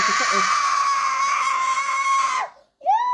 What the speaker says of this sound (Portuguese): Isso é minha filha, gente, gritando porque eu abri o negócio dela aqui.